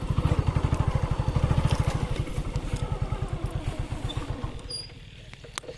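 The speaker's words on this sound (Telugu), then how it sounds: "బైక్ తీసుకొని వెళ్తున్నాం" A motorcycle engine putters steadily close by, its rapid pulsing fading gradually as the bike moves along.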